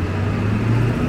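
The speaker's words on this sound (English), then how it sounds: "Apologies for the road noise." Traffic passes along a historic small-town main street, a steady low road rumble and tire noise filling the background with no distinct single vehicle standing out.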